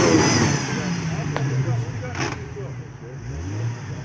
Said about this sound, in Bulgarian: Ай за пълна газ на втора